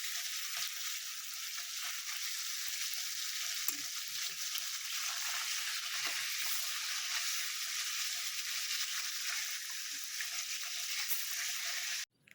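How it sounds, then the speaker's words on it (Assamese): Pieces of rohu fish fry in hot oil in a pan, giving a close, steady hiss and crackle of sizzling that runs unbroken with no talking. "এনেকুৱাকৈ লাহে লাহে গোটেইখিনি মাছ ভাজি লৈ"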